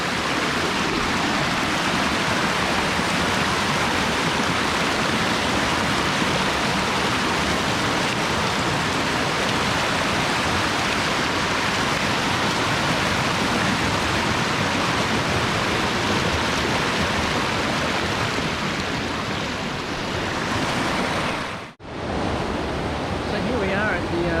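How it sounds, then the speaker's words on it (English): A little river flowing past a peninsula near stepping stones, a dense, steady rushing wash of water that stays loud and unbroken throughout, dipping briefly near the end. "as you can see the river behind me"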